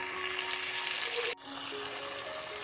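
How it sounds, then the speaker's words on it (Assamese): Pointed gourd and bitter gourd curry bubbling and sizzling gently in oil over a low flame, a steady close hiss with a brief dip midway, no voices. "এতিয়া এইখিনি ধুনীয়াকৈ সিজিবলৈ দিম একেবাৰে ল' ফ্লেমত"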